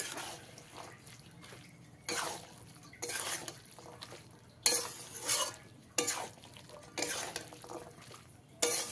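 Drained peas stirred into a spice mix for vegetarian Bengali ghugni: close bursts of spatula scraping with a wet, sizzling edge, coming in separate strokes about a second apart with quiet gaps between.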